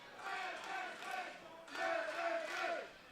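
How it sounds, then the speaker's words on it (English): A pro wrestling crowd at a 1CW heavyweight title match roars and chants in two swelling waves, a dense mass of voices that rises, dips briefly, then surges louder again. "You can hear the 1CW crowd is actually behind Bad Banks."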